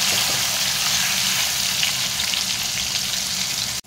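A spice mixture with turmeric frying in a pan gives a constant, close hiss of sizzling oil that holds steady, then cuts off abruptly at the end.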